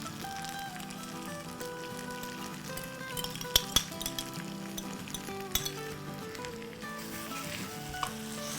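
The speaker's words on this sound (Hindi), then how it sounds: "हम इसको विस्क करते हैं और फिर हम अपने पसंदों पर डाल देते हैं" Whisked yogurt hits pasanday beef cooking in a hot pot and sizzles steadily, with a few metallic clinks of a utensil against the pan.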